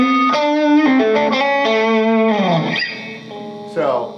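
Electric guitar played through a Line6 Pod amp modeler with the drive turned way up, giving a loud, heavily distorted tone with sustained notes and slides; a voice speaks in the background.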